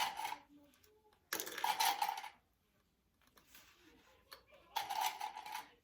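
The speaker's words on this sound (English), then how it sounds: "I'm just going to clip that down." Short metallic clicks and clatters as a sewing clip is clamped onto zipper tape on a fabric bag, coming in two or three close, brisk bursts with quiet pauses between.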